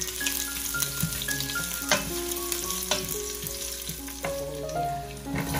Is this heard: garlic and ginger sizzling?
yes